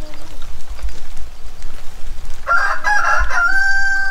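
A rooster crows loudly partway through, its drawn-out call ringing clearly over a low, rumbling background; earlier, faint clucking and scuffling.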